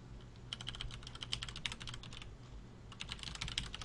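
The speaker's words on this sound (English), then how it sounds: "I'm typing out mine in chat." Fingers clatter over a computer keyboard in quick, uneven bursts of clicks with a short pause midway, soft and close against a low background hum; no talking.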